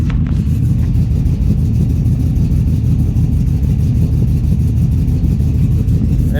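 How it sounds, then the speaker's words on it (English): A lifted Duramax 2500HD diesel truck idles loud and close through a side exit exhaust, a constant deep, lumpy rumble that stays steady and heavy throughout with no talking. "That truck's just shaking left and right. I love it when it's idling like that."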